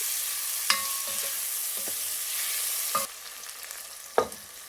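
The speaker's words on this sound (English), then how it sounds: "continue to sauté for an additional 2 minutes until the onion becomes translucent and aromatic" Sliced onion sautéing in a pan with cinnamon and spices for yellow lentil khichdi, a continuous bright sizzle punctuated by several distinct spatula knocks and scrapes.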